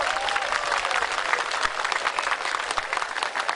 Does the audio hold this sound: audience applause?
yes